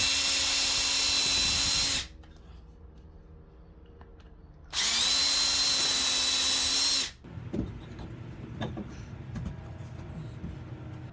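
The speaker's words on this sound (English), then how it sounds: "I'm also going to drill these out as well." A power drill whines in two bursts of about two seconds each, drilling holes while building a loft, separated by quiet, followed by faint rustling and handling noises.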